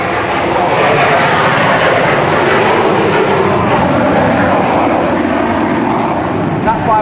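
A loud, continuous roar of RAF aircraft engines drifts in from the runway at Brize Norton, a broad steady rumble with no pauses over the whole stretch.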